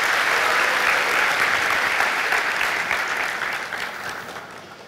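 Congregation at a Sunday morning church service applauds worship leaders and musicians, a dense, even wash of clapping from a large room that slowly fades away at the end.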